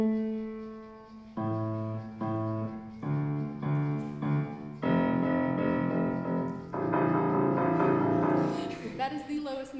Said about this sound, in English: Next, the inversion of the same melody would sound like.